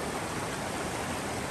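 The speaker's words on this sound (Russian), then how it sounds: "Мощная река." Powerful river of clear, icy water rushing through a shaded gorge, a dense steady roar of flowing water filling the whole clip at constant loudness, with no voices.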